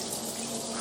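A campsite shower runs after its outside button is pressed, giving a steady, even hiss of falling water at moderate distance, brief and unbroken, with no talking.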